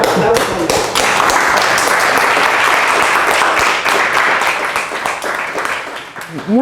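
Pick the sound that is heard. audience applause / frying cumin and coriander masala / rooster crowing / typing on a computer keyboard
audience applause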